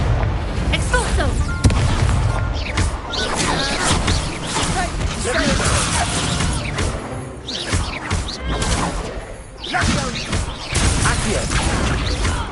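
Expulso blasting spells in Hogwarts Legacy set off dense, loud crashing booms and impacts in close succession, with a voice in the clip calling out spells over the chaotic din.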